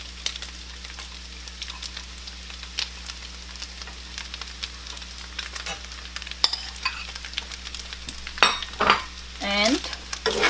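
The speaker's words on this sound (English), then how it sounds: "Let's add the chopped carrots." Chopped carrots fry in a pan for a shepherd's pie while being stirred: a steady soft sizzle under scattered scrapes and clinks of the utensil, growing busier and louder toward the end.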